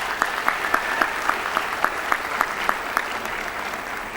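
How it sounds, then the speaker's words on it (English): A crowd applauds at a 2016 high school graduation ceremony, steady dense clapping with a few sharper individual claps standing out at a regular pace, all fairly loud and continuous throughout. "Let's give them a round of applause."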